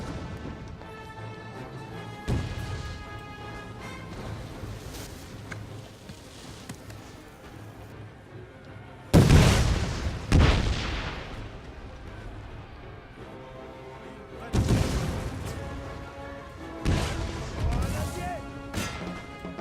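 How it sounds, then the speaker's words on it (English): Grenadiers' grenade explosions in the Napoleon Total War game, heard as several loud, sharp blasts spread across the span, with some closely clustered, over a low battle ambience, and a voice talks at times. "Perfect chance for my grenadiers to use their grenades."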